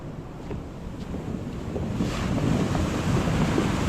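Rough sea waves crash over a breakwater, a loud, continuous roar of surf buffeted by heavy wind noise, swelling slightly toward the end with no voices.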